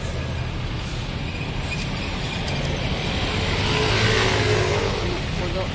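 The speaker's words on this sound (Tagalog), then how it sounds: "ihatid sa may truck. Ayun ang truck." A garbage truck's engine rumbles steadily at a street collection point, a loud continuous low drone that swells slightly toward the end, with traffic-like noise around it.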